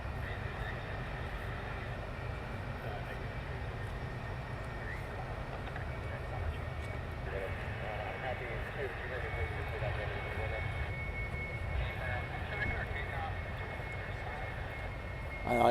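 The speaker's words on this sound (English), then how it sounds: "We've got a pair of F-15s overhead making the ground shake a bit" A pair of F-15 fighter jets passes overhead as a steady, heavy low rumble that lasts throughout and swells slightly at the very end, with no other sounds standing out.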